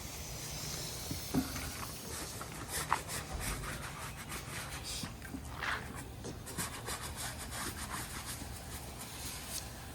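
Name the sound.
brush scrubbing firefighter gear during decontamination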